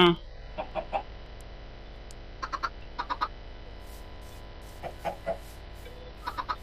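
Short, soft clucks from video game chickens pop up in small clusters over a steady low hum, fairly quiet and spaced apart.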